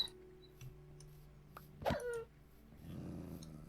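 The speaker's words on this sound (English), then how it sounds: "Oh, that was a good howl." A wolf in the Minecraft modpack SevTech Ages lets out a short, strained howl or yelp, briefly rising and falling, amid quiet game background and soft low rustling.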